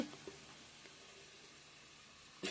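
Ground spice paste frying in a pan gives a faint, steady sizzle and hiss throughout, with a short clatter near the end and no voices.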